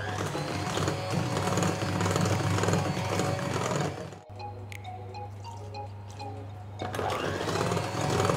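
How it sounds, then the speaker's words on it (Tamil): Electric mixer blending cake batter as flour and milk are added alternately, a steady whirring drone with a low hum; the motor tone shifts and drops briefly midway before returning at full strength. "இப்போ வந்து மாவையும் பாலையும் ஆல்டர்னேட்டாக மிக்ஸ் பண்ணிக்கலாம்"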